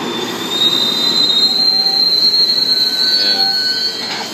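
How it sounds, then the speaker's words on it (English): An MBTA commuter train pulls into South Attleboro station, its wheels squealing in a loud, sustained high whine over steady rolling rail noise, with no voices. "where the train to Boston is just pulling in"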